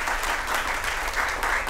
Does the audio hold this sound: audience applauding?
yes